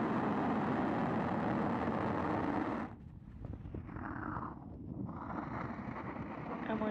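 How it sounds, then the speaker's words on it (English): SpaceX Falcon 9 rocket engines roar at liftoff, a heavy, rumbling wash heard from a distance that dips briefly and then builds again, buffeted by wind. "Ignition. And liftoff of Falcon 9."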